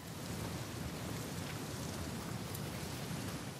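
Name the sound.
rain in a video game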